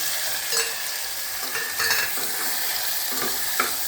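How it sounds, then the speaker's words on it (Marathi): Finely chopped boiled potato is sautéed and stirred in a hot pan, with a continuous loud sizzle and intermittent spatula scrapes, heard up close without any talking. "छान परतून घ्यायचं"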